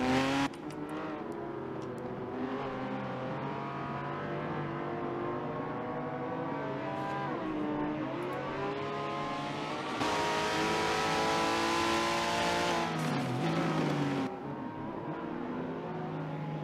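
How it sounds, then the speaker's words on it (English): Race car engines from an '80s-class championship in a racing video game roar and rev steadily through the final corners, a loud, continuous drone with pitch rising and falling as gears shift and the cars accelerate. "Let's get on board with FTC Roo for his final few corners here."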